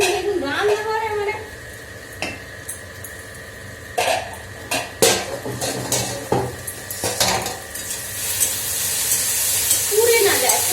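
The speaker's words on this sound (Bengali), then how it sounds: "বেশ ভাজা ভাজাটা হচ্ছে, আলুটা হয়ে এসছে" Potatoes sizzle and hiss while frying in a home kitchen pan, with pots and utensils clattering and scraping now and then, a cough, and someone talking over the cooking.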